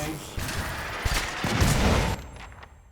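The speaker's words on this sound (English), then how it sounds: "Oh, those explosions." Rumbling, crackling explosions in the video game Pillars of Eternity, a dense burst of blasts building for about two seconds and then cutting off abruptly.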